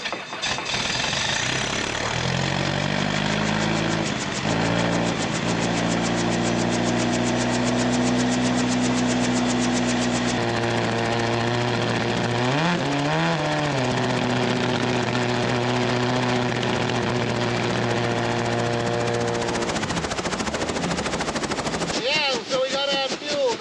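A Rotorway kit helicopter engine runs at full throttle with the rotor spinning near 90% RPM, a loud steady drone whose pitch climbs, dips and shifts over time before a brief change near the end.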